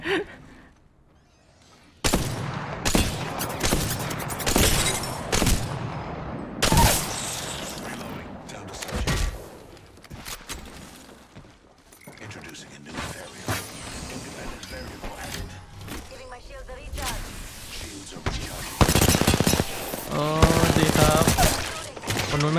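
Bursts of automatic gunfire in the shooter game Nutsuru, sharp loud volleys scattered irregularly, with a voice talking between and over the shots.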